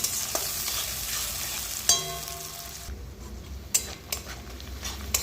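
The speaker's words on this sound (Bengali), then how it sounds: "পেঁয়াজগুলো ভাজা হচ্ছে" Onions with asafoetida and chopped ginger fry in oil in a pan with a bright, hissing sizzle and scattered utensil clinks, and the sizzle eases partway through.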